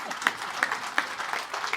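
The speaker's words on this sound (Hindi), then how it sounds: "तालियों के बीच में आने चाहिए," An audience at a Republic Day youth club program in Banaras applauds, steady crowd clapping with a few sharp, louder claps punctuating it at regular intervals.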